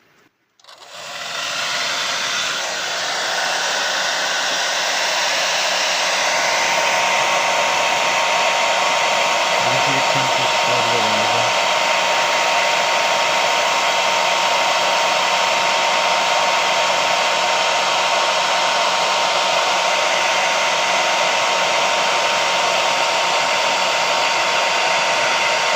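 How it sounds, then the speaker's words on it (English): A hair dryer blows steadily and loudly, a continuous whooshing motor roar with a faint high whine that starts abruptly and runs unbroken. "Now if I use a blow dryer,"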